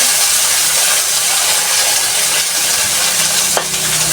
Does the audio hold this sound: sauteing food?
yes